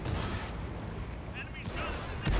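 A cannon shot from a captured King Tiger tank in World of Tanks on console: a heavy, booming blast with a rumbling tail, followed by a sharp second thud at the end.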